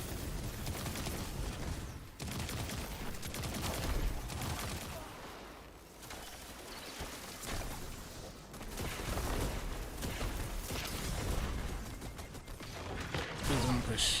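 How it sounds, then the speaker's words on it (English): Rapid bursts of video game gunfire crackle almost without pause, dense and fairly loud, with a mix of mechanical clicks and clatter during a live gaming session. "Who's shooting me in the back?"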